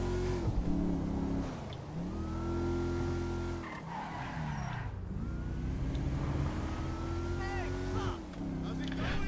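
A Fortuner SUV revs and accelerates in GTA V, its engine drone rising and falling through gear shifts with some tire noise. Someone talks over the engine throughout.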